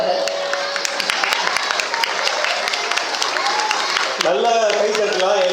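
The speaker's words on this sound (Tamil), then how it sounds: "நல்ல கைத்தட்டலாம்." Applause fills the hall at the Marutham Awards 2025 ceremony as the best volunteer, Arunraj, is named, a steady dense clapping throughout with cheering and a voice rising near the end.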